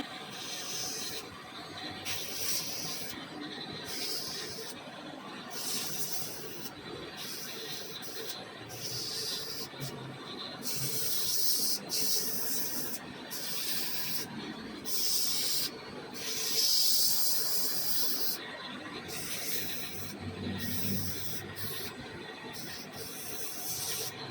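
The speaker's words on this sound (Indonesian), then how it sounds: "dan kita amplas pulinya biar lebih jos" Sandpaper rubs rhythmically against a blackened roller door pulley in repeated back-and-forth strokes, a steady scratchy hiss with short pauses between passes.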